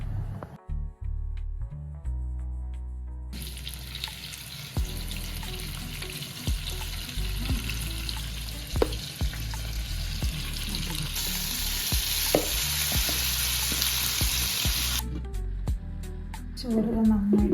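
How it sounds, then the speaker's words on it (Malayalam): Chicken pieces fry in hot oil for Algerian mandi, giving a steady, loud sizzle with occasional pops and clatter that thins out near the end. "പൊരിച്ചെടുക്കാം."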